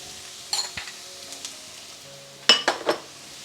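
Bell pepper frying in a pan for a beans omelette, with a soft steady sizzle broken by two clusters of spoon scrapes and clinks against the pan during stirring.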